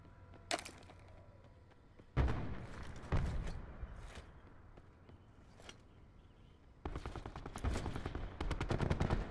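Gunfire in Call of Duty Black Ops 4: a single sharp shot, then several rapid bursts of automatic fire, some crisp and close, ending in a sustained volley, with quiet stretches between.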